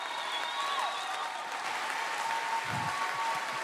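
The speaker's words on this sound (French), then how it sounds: "qu'on peut applaudir bien fort" A concert-hall crowd at La Cigale claps loudly for a singer at an election-night comedy show. The applause is a continuous wash of hand claps at steady volume, with a faint murmur low in the mix.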